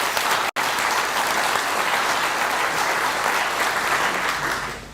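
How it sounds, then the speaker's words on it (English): Conference audience at ConfigManagementCamp in Ghent applauding Mark Burgess: dense, steady clapping from a large crowd fills the room, broken by one abrupt instant dropout near the start, then fading slightly at the end. "give a round of applause to Mark Burgess"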